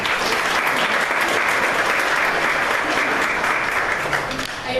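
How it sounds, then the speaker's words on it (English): An audience at a political breakfast applauding, a continuous, even burst of many hands clapping at moderate loudness that begins to taper off at the end. "Please give yourselves a round of applause."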